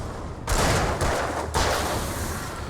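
Gunfire rattles in the Alan Wake video game: two or three loud, close bursts of rapid shots, each lasting about a second, with almost no talking.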